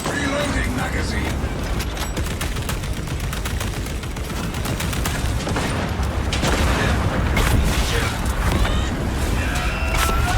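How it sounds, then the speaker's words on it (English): Gunfire, explosions and mechanical clatter from a Warhammer 40K-style video game battle against swarming Tyranids near generators and gates, with a tactical auto bolt rifle firing and reloading, dense and continuous throughout. "Reloading magazine"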